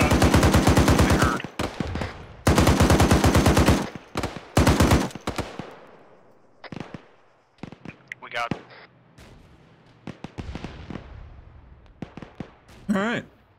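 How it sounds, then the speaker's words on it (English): AI enemies in an Arma-style military video game fire long, loud machine-gun bursts at close range, then the shooting breaks into scattered single shots and shorter volleys with brief quiet gaps between them. "That's fucking AI firing"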